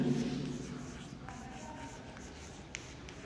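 Someone writes on a board during a maths lesson on real numbers. The soft scratchy strokes are quiet and close, with a light tap near the end.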